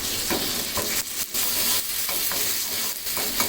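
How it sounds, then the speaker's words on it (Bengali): Onion frying with ginger and garlic in a pan for a chicken cheese bun filling, with a steady close sizzle broken by repeated scraping stirs of a spoon, and no talking. "এখন একটু আদা রসুনটা পেঁয়াজের সাথে ভেজে সামান্য একটু এক মিনিট ভেজে নিলেই হবে"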